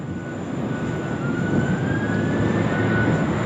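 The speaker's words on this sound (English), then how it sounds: "Qantas about to roll now" A Qantas airliner begins its takeoff roll at Sydney Airport, a broad steady engine roar at moderate distance that swells slightly, with a faint rising whine threading through it.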